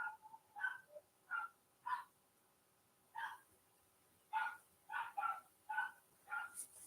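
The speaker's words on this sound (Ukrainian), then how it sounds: "Піду подивлюсь, хто там гавкає. Чому собака гавкає?" A dog barks in a series of short, sharp yaps, some single and some in quick clusters, spaced irregularly and heard fairly faint from a distance against a quiet background.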